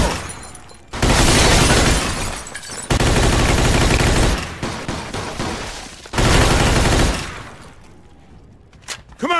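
Heavy gunfire in a Mafia 2 bar shootout, with loud sustained bursts of automatic fire in three long volleys, broken by short lulls, close and dense.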